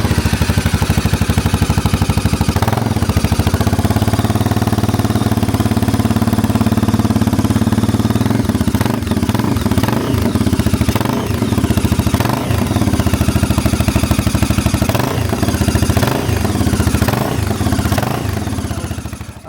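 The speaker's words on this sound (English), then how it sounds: "Big 500 4-stroke single with the twin pipes." A big 500cc four-stroke single-cylinder engine with twin exhaust pipes runs steadily and loudly, a continuous low thudding idle with occasional blips in revs, close by and alone with no voices.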